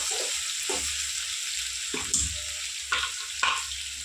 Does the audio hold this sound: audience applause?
no